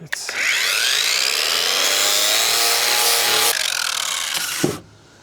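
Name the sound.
grinding down fiberglass patch on sailboat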